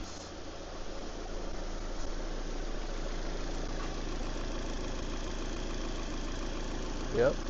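A replacement engine idles steadily in a 2006 Nissan Altima, a continuous even hum with a faint rhythmic undertone, moderately close, steady throughout.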